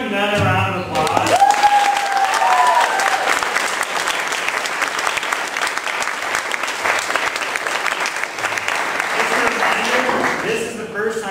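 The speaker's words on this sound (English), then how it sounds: "Let's give him another round of applause" A university debate audience applauds in a sustained, dense wash of clapping lasting about ten seconds, with a voice briefly heard at the start and near the end.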